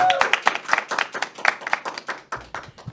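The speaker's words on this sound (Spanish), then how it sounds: "Un fuerte aplauso" A burst of audience clapping at a Catholic café-style talk show, quick uneven claps building into brief applause, close and fairly loud.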